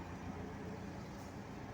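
Two trucks pass, giving a steady, fairly faint broadband road rumble that holds evenly throughout with no distinct peaks and no talk.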